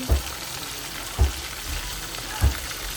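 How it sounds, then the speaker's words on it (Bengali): Fish frying in a wok, a steady close sizzle with three soft dull knocks spaced about a second apart. "কড়াইটা পরিষ্কার করে আবার মাছ ভাজিটাও তুলে দিলাম"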